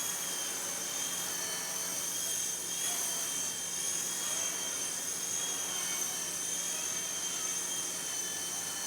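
A Blade Nano S3 micro RC helicopter flies nearby, its tiny rotors and motor giving a steady high-pitched whine that holds evenly throughout without pauses.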